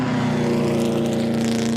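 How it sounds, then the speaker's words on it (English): A supercharged straight-eight car engine in the driving game BeamNG hums steadily and loudly, a dense droning tone with a layered harmonic whine held at constant pitch, no talking. "listen to this beautiful straight 8. That's a lot of supercharger whine."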